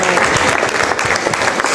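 A church congregation bursts into loud, sustained applause, dense clapping filling the whole stretch with a steady crowd roar and no pause.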